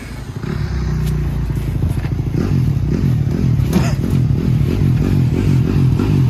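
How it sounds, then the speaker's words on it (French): Several motorcycles idle and rev as they warm up before a final ride ahead of a race, a steady close engine drone with repeated throttle blips and some clattering throughout. "Là, on fait chauffer les motos."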